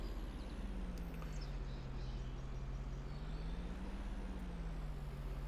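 A heavy truck's engine drones steadily and loud throughout, with a low pitch that dips and rises as it backs up in Farming Simulator 25, carrying a loaded skid loader.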